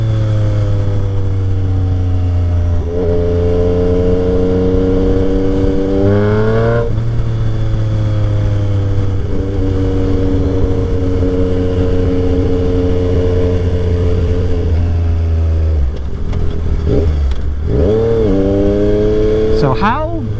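Yamaha XSR 900 motorcycle engine on a dusty demo ride, a loud, steady drone that revs up and down through gear changes, with wind noise throughout.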